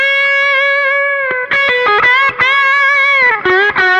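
A distorted electric guitar on the bridge pickup, played through a profiled pedal in a Kemper, rings loud and sustained with a bright, yelling edge, holding notes then shifting through a series of choppy, bending phrases.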